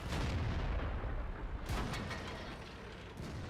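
Tank cannon shots in World of Tanks battle, a tier 10 medium tank fight involving an M46 Patton and a Leopard, with heavy low booms and rumbling gunfire filling the whole stretch, loud and continuous.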